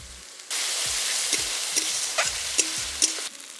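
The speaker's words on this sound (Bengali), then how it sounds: "এবারে দিয়ে দিচ্ছি পেঁয়াজ বাটা। এবারে দিয়ে দেবো আদা বাটা।" Onion paste and ginger paste hit a hot pan with a sudden loud sizzle that continues steadily, with a few sharp stirring scrapes before it drops away.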